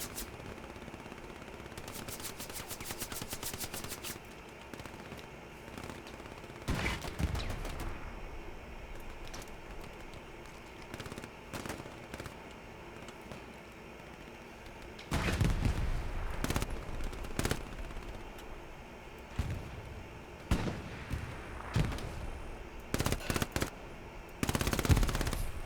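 Rapid machine gun bursts in a video game, loud and repeated in several clusters with pauses between, the firing heaviest near the start and again in the last ten seconds.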